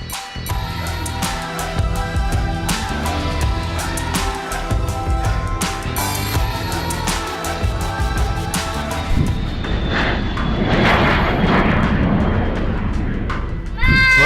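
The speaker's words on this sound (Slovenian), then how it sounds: "Pa smo videli, kako vzleti malo reaktivno letalo." A small jet plane taking off, a loud broad roar building steadily under busy background clatter and voices, swelling louder toward the end.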